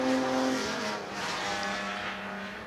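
Classic race car at the Goodwood Revival's Sussex Trophy race, its engine roaring loud and close as the tail swings out, with tires squealing under a steady engine drone.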